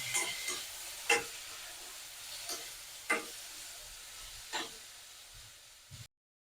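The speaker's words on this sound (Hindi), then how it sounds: "बीच बीच में चलाते रहना संगवारी, ताकि अच्छा से फ्राई हो जाए, भुंजा जाए, तला जाए।" Besan kadhi ingredients fried in a pan under a soft steady sizzle, broken by a few sharp scrapes and clinks of a spoon stirring at irregular intervals, close with no talking.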